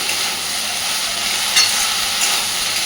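Soybeans frying with sauces in a pan hiss in a continuous close sizzle, with a brief brighter crackle partway through.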